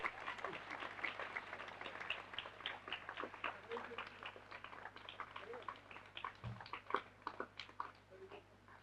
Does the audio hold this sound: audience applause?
yes